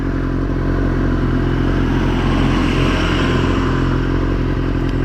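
Motorcycle engine running loud and close while the rider shifts down, a constant rough, buzzing roar with rattly mechanical clatter throughout, no voices.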